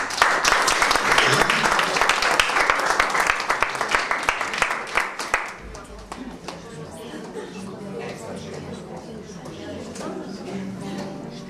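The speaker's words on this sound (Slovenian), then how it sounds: "pozdravimo še z enim aplavzom" An audience at an event in a retirement home in Beltinci gives a lively round of applause that fades out after about five seconds, after which a person speaks over quiet room sound.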